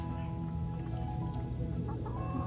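Pet backyard chickens cluck continuously in a low, busy chorus close by, with occasional higher calls over a steady background.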